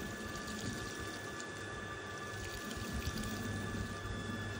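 Water runs steadily, like a tap or pipe filling a container, with a constant humming flow and no voices.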